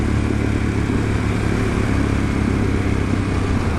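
A Harley-Davidson Pan America motorcycle cruises on the road in normal road mode, its engine a steady, loud, close drone with constant wind noise and no speech.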